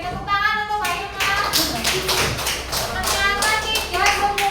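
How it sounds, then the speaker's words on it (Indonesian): A group claps together for a participant during an unplugged computational-thinking classroom activity, fairly loud rhythmic clapping that keeps going alongside a voice heard over it. "saya tepuk tangan untuk Mbak Irma"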